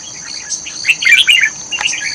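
Red-whiskered bulbul calling at a bird trap in Hoa Binh, Vietnam: a run of bright, high chirps and tweets, fairly close, with a faint insect-like hiss underneath and no talking.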